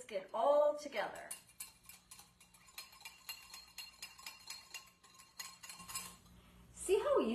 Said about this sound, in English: I'm just going to whisk it all together